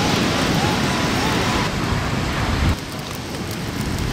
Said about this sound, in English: Started raining, so we're out of here.